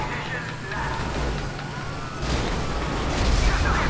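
A police car siren wails in GTA V, a rising and falling electronic tone running under game engine and traffic noise, with someone talking over it.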